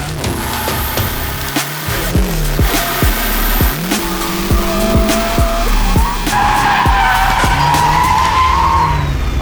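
A 500 hp Toyota Tacoma truck drifts on a track, its tires skidding and squealing loudly and continuously over a roaring, revving engine that rises and falls throughout.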